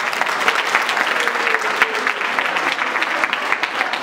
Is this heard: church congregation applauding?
yes